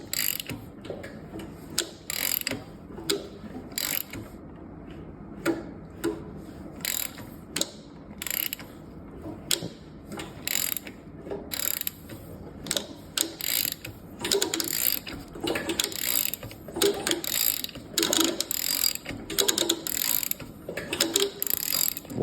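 Engine timing chain on a Nova trying to jump a tooth, giving a steady run of sharp mechanical clicks and ratcheting ticks, fairly close, with no talk.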